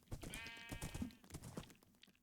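Sheep bleating in a video game, a wavering harmonic bleat lasting about a second, mixed with other game sounds and background noise at moderate-to-low level.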